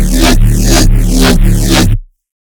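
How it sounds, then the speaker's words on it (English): A clean neurofunk bass synth from Serum with a frequency shifter and EQ plays a loud, gritty, wobbling phrase with rhythmic sweeping modulations, about two seconds long and ending abruptly in silence. "By the way, on this bass I've put a frequency shifter and the EQ"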